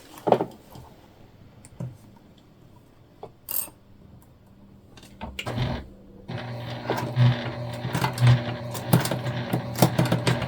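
A few scattered clicks and handling knocks come first, then a sewing machine starts top stitching a vinyl tote bag, a steady mechanical whirr and needle rattle running through the last few seconds, nearby and without speech.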